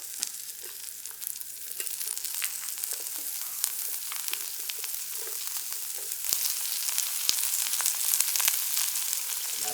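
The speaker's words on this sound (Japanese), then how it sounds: "野菜を鍋の縁に入れて、そしていよいよ肉投入だ。" Vegetables sizzle in a pan at the edge of a campfire cookout for Hokkaido Genghis Khan grilled lamb: a steady, crackling fry with scattered pops and spatters, close and even throughout, with no voices.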